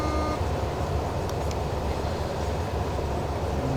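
A CD 163 multisystem electric locomotive running in the SimRail train simulator game gives a loud, steady, low rumble of rolling rail wheels, continuous throughout with no voices.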